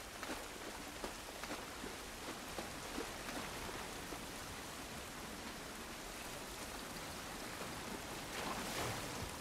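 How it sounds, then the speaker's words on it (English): Rain pours steadily in The Last of Us, a dense, fairly quiet wash of falling drops and spatter that holds evenly for nearly ten seconds, with scattered louder splashes and no speech. "This rain ain't gonna do us any good."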